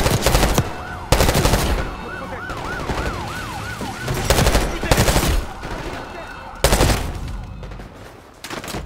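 Loud bursts of automatic gunfire from the video game Call of Duty Black Ops 6, several sharp volleys spaced across the stretch, with a wailing siren sweeping in the middle and game noise underneath.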